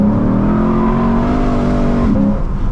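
Lexus RC F V8 engine revving hard while drifting through corners, a loud, sustained roar with steady harmonic tone that dips briefly near the end, heard from inside the car.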